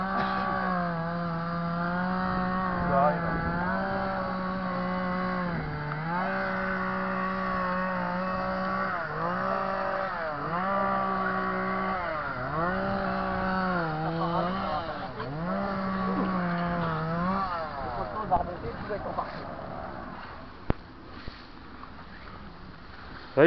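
A chainsaw runs steadily through outdoor clearing work, its buzzing engine droning loud and close with a string of short dips as it bogs and revs. It then cuts out near the end, leaving a quiet stretch with a few faint knocks.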